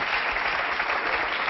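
Studio audience applause fills the whole stretch, dense and steady clapping at even loudness from start to finish, with no voices rising above it.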